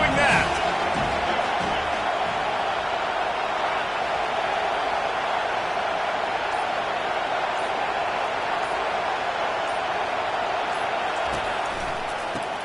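A football stadium crowd roars steadily throughout, a dense, sustained wall of cheering and noise with no breaks, loud and continuous from start to finish.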